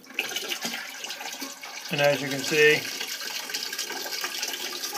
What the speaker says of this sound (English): There'll be a little water leaking.